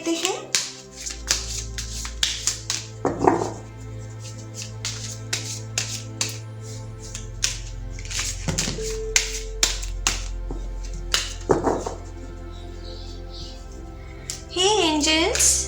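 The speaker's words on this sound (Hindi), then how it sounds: "तो चलिए पहले ज़रा कार्ड्स को शफल कर लेते हैं।" Tarot cards being shuffled by hand give a string of soft, close riffling and tapping bursts over a quiet hum, while a voice talks briefly near the start and the end.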